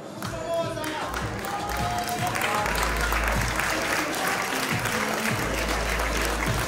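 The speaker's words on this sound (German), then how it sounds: "großen Applaus für diese entzückende Damenklasse" Audience applauding steadily for a women's class at a NABBA Austrian bodybuilding championship in 2022, dense continuous clapping from a crowd filling the whole stretch, with a voice speaking over it.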